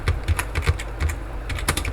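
Typing on a computer keyboard at close range, with quick, uneven key clicks in bursts and brief pauses, loud and clear with no talk over it.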